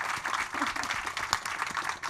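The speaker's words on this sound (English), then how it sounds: "Can we have a round of applause for this incredible group," Dense, sustained crowd applause for a panel at Advertising Week New York 2024, a continuous wash of many hands clapping, fairly loud and without clear pauses.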